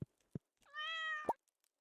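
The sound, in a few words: cat petted in Stardew Valley, video game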